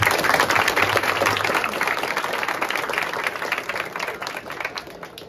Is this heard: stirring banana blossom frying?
no